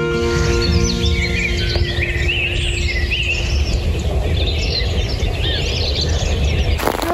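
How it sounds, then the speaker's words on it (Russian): Small birds chirp and sing steadily at sunset over a spring country garden, a dense continuous chorus of overlapping calls with faint insect buzz beneath, no voices. "Птички поют."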